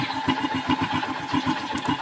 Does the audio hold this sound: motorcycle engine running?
yes